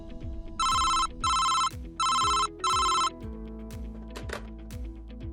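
An old-style telephone bell rings loudly in four evenly spaced bursts, each about half a second long with short pauses between, before falling quiet to a low room background. No one speaks.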